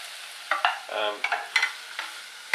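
Onions cooking in a pan for chicken tomato pasta, a soft background sizzle punctuated by several sharp stirring scrapes and knocks, close and with no talking.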